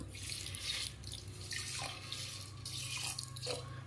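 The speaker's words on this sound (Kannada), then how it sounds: "ಈ ಸಕ್ಕರೆ ಮುಳುಗಷ್ಟು ನೀರು ಹಾಕಬೇಕು" Water is poured into a pan of sugar on a gas stove to make syrup for karadantu, a continuous soft splashing trickle heard close and alone, rising and easing in a few surges.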